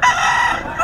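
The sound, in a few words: rooster crowing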